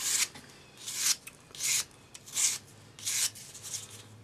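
Sandpaper on a sanding stick rubs across the curves of a metal swirl ring in five or six close, short, raspy strokes with brief pauses between them.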